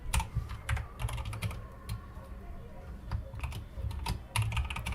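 Keys clatter steadily on a computer keyboard as Go code is typed, a dense run of close, sharp clicks with brief pauses and a few louder bursts, no voices over it.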